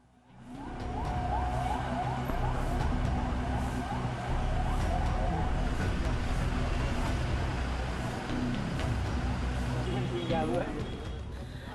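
Wailing ambulance sirens from a convoy rise and fall repeatedly over rumbling traffic, with a second siren pattern joining near the end; muffled talk runs underneath.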